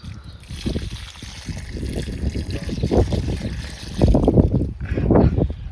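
Leftover water is poured onto a holy basil plant, a close splashing trickle that swells and eases in several uneven pulses over a few seconds.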